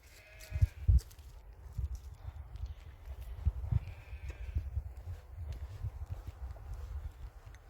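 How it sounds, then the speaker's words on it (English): Sheep bleat in short, scattered calls beside a stream on a hillside walking trail, heard against steady outdoor rustle and low wind rumble. "Sheep are lucky they can drink straight from the stream here."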